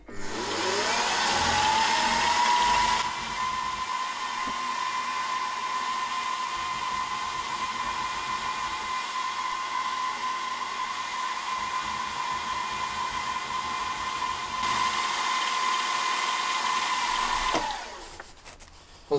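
An end mill on a milling machine cuts crossways across a metal cylinder head for a model V-twin engine, giving a steady high whine that spins up and holds for most of the stretch before winding down near the end.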